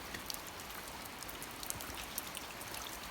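Heavy rain falling at a horse stable, a faint but dense, steady patter of drops hitting surfaces with no voices.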